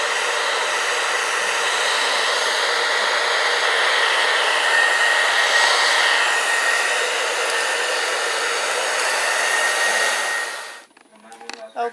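Blow dryer on its cool, high setting, a loud steady whoosh that holds for about eleven seconds, then cuts off abruptly.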